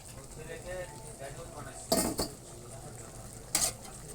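A metal lid clanks twice onto a pot of simmering goat meat, two sharp bright knocks separated by a pause, set against low kitchen background noise.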